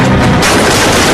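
Gunfire in a dubbed action movie bursts out as a loud, dense, crackling volley that fills the short moment with no gaps and no talking.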